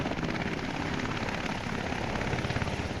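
Firefighting aircraft working over a wildfire near Boulder, a loud, continuous throbbing rotor-and-engine roar close by, steady throughout with no speech.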